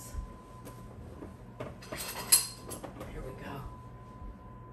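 A fork clinks and scrapes against a casserole dish while Monterey Jack and cheddar cheese are mixed into it, with soft intermittent taps and one sharper clink, close and fairly quiet.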